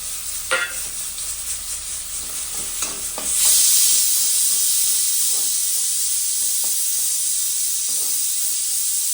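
Onion hits hot oil for pav bhaji and breaks into a loud, steady sizzle, preceded by a few stirring clinks in the pan; the hissing frying carries on close and even without talk.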